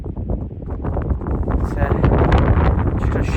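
Cold wind gusts across a mountain ridge scramble on Moel Siabod in Snowdonia, buffeting the microphone in a steady, loud rumble that builds toward the end.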